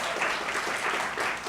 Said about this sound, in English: Yes, more applause for her.